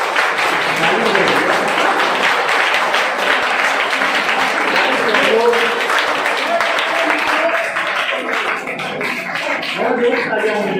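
Boys at a school motivational seminar clap loudly and continuously, the dense applause mixed with voices and thinning slightly toward the end.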